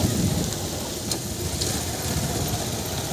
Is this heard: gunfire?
no